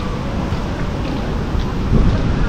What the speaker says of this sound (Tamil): காற்று இந்த அடி அடிக்குது.